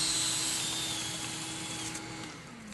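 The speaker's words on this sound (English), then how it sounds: "use the drill in a gentle in and out motion to gently dislodge the lint from the duct" A power drill whirs continuously with a steady, dense mechanical roar, driving a cleaning tool through a dryer vent duct to dislodge lint, running close and loud throughout, with faint high whining overtones.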